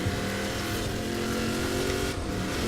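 In the Forza Horizon 4 video game, a Hummer fitted with a Duramax engine drives along with a steady, loud engine drone that holds a constant pitch and dips briefly near the end, with no talk.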